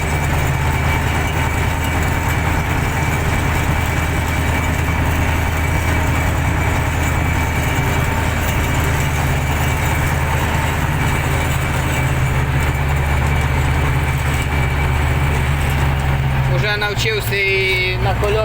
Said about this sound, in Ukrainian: А як ви бачите, двигун працює непогано.